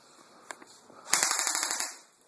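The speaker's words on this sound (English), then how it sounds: "Oh, they're fucking shooting at me." Airsoft gunfire during a Marines versus militia skirmish, including an AK-74 replica: a single sharp pop, then a rapid burst of clicky shots for about a second, fairly near, with no talk.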